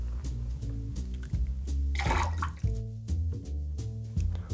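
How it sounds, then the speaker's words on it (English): A lemon half is pressed in a hand squeezer for a raspberry lemonade rum cocktail, giving close wet squishing and dripping sounds in short bursts over a low background. "we're just going to juice a lemon that might fit in my squeezer here"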